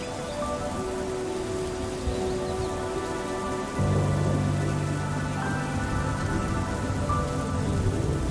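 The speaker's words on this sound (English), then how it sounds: "the entire forest is immersed in the relentless sound of pouring rain" Heavy rain pours steadily onto the Amazon rainforest canopy, a dense continuous hiss that grows louder and fuller midway through, with no voices.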